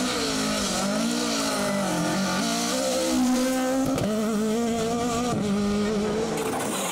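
A Ford Escort rally car driven hard on a rally stage roars loudly and close, the engine rising and falling through gear changes and revs, with tire noise under the engine.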